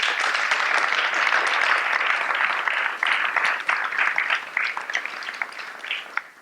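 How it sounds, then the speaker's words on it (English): Sustained, dense audience applause greets Evgeny Morozov and moderator Mirko Tobias Schäfer at a College Tour talk at IMPAKT Festival 2015, loud and steady at first, then thinning toward the end. "Please give them a warm applause."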